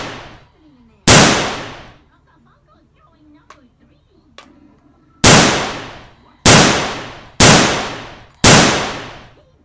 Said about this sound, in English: Wow, this pistol's sweet.